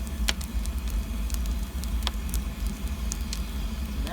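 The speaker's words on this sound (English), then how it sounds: "So that sound is the wood gas coming out of that wood" Wood gas jets and burns steadily from a charcoal retort furnace, a continuous low roaring rush with crackling pops and brief sharp snaps scattered throughout.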